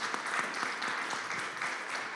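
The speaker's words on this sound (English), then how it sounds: "If you could give them a round of applause, please." Audience applause for guests at a groundwater management panel, dense steady clapping filling the room from start to finish with no speech.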